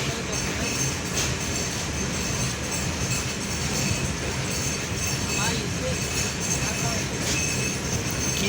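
Intercity express train at Nilphamari railway station in Bangladesh, a continuous rumble of rolling wagons with faint wheel squeal and rail clatter, voices faintly mixed in.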